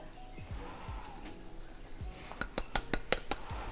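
Flour, baking powder, baking soda, salt and cinnamon are mixed in a bowl for banana bread. Soft low bumps come first, then a quick run of bright clinks from a utensil striking the bowl, all fairly quiet.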